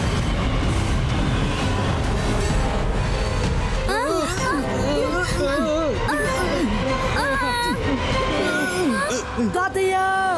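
A cartoon train rumbles and clatters in a desert scene, loud and continuous, overlaid midway by bright, bouncing animated sound effects and music, with children's and other voices speaking over it.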